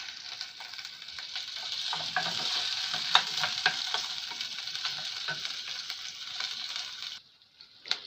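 Onion sautéing in hot ghee in a pan for lentil soup gives a bright, steady, close sizzle with light stirring taps, ending abruptly near the finish.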